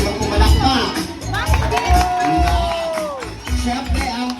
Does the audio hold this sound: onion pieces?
no